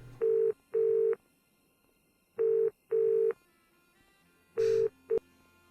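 Telephone dialing tones in a video game: six short electronic beeps in uneven pairs, clean and close, with near silence between them.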